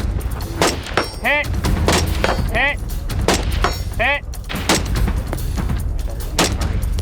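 Gunshots ring out during timed shooting from a tripod, several sharp, loud reports at uneven intervals, some followed by short tonal chirps, over steady outdoor background noise.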